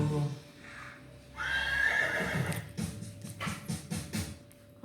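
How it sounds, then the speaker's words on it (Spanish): A horse neighs in a loud, drawn-out whinny, followed by a few shorter snorting calls, with faint background noise and no talk. "¿Cómo hace el caballo?"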